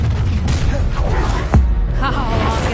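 A Depulso spell cast in the Hogwarts Legacy video game lands as a single short, loud boom-like thump partway through, amid dense game noise and a voice talking.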